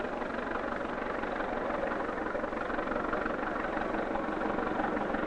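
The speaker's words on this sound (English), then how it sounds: "His motor sounded good" A tractor engine runs steadily at a 1963 country fair tractor pull, a continuous loud droning rumble with no break and no voices.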